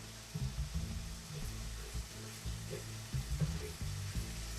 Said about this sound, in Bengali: টমেটোটা খুব ভালো করে কষিয়ে নিতে হবে যাতে কাঁচা গন্ধটা চলে যায়